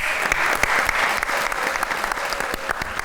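A burst of applause from a crowd, dense clapping at a steady level throughout.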